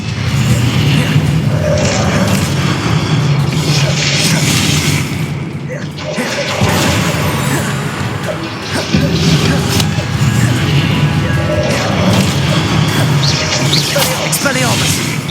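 Spell impacts in Hogwarts Legacy combat: repeated booming, crashing hits over a dense, continuous game soundscape with music, with a brief dip near the middle.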